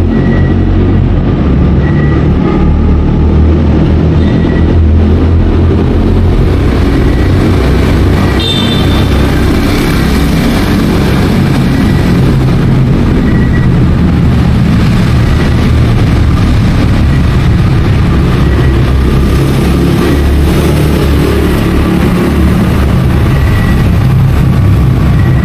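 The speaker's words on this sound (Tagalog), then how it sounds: "So may dumarating na motor." A motorcycle passes through Kaybiang Tunnel, a loud, continuous engine rumble that echoes off the tunnel walls and stays heavy and steady throughout, with no voices.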